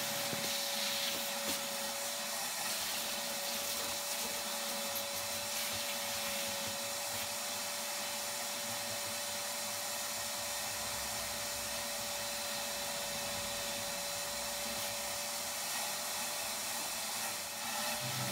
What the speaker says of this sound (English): We're going to grab the vac and we're going to get as much of the hair as possible as we can to begin with